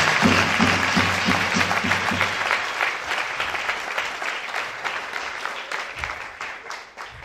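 A church congregation bursts into sustained, dense applause that gradually thins out, with scattered shouts and voices mixed into the clapping.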